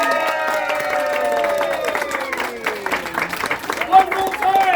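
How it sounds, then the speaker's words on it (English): A crowd at a Renaissance fair show cheers and claps after a staged scene, with voices shouting and whooping over the applause, fairly loud and close. "thunderous applause."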